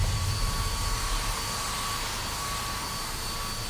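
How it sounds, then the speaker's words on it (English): A hair dryer blows steadily on a woman's crochet faux locs during a makeover, a constant airy whoosh with a faint whine, close and even throughout with no talking. "here we're gonna go ahead and blow dry some more"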